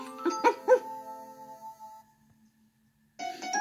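A cartoon dog in a children's storybook animation gives a few short, clear barks close up, followed by a held tone, a brief silence, and another burst of sound.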